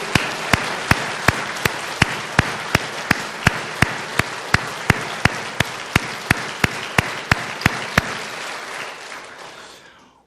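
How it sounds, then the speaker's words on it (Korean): A large church congregation applauds loudly at a Sunday service, with a steady rhythmic clap beating through the wash of hands before it all fades out. "하나님께 모든 영광의 박수 올리겠습니다."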